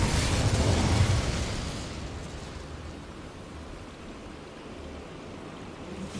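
Incendio fire spell cast in the Hogwarts Legacy video game: a loud whooshing burst of flame in the first second or two, fading into a softer, sustained rushing hiss with no talking.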